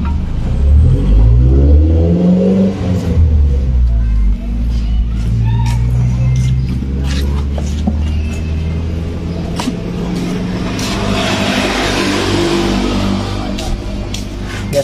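A Honda Beat scooter's engine revs and sputters unevenly, its loud, close rumble surging and dropping with choppy misfires for the whole stretch, with no voices.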